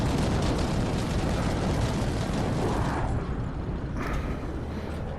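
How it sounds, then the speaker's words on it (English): Artillery bombardment in the tank game Armored Warfare: a continuous, heavy rumbling roar of distant shelling, loud and broadband throughout, easing slightly near the end with a faint later swell. "Okay, you can hear bombardment coming."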